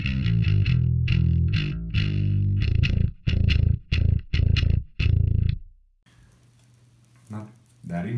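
A bass guitar played through the ambient low-end channel of an STL Tonality Will Putney amp plugin: thick, distorted chugging notes in short rhythmic bursts, loud and close, then stopping into quiet room noise with a brief voice.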